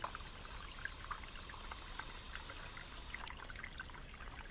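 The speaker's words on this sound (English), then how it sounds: "I think they're a Putnam's cicada." A Putnam's cicada calls with a steady, high, buzzing trill that runs unbroken at moderate loudness, with soft background crackle and a faint trickling texture.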